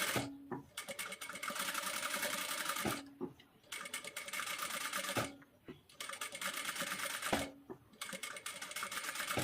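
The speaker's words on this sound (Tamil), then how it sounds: "ஸ்டிச் பண்ணும்போது பொறுமையா ஸ்டிச் பண்ணுங்க." Sewing machine stitching the back part of a blouse, running in steady bursts of rapid mechanical whirring with short pauses between runs, close and fairly loud, no talking.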